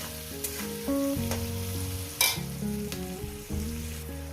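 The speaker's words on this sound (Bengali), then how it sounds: "এটাকে আমি তিন মিনিট ধরে ভেজে নেব" Onions frying with a spoonful of salt in a pan for a Bengali gili curry, a steady sizzle with scraping stirs and brief clatters, close and moderately loud, with no speech.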